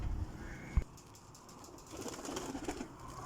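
Champion breeder pigeons let out of their enclosure give low, rumbling coos close by, with a sharp thump of wings or movement near the start and softer rustling afterward.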